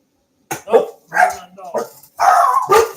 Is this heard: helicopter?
no